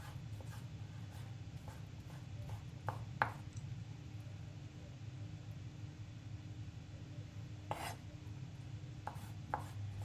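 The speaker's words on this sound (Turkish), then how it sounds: "Bu şekilde doğrayalım." A knife chops chicken on a cutting board in a few scattered sharp taps, with a pause in the middle, over a low steady background hum.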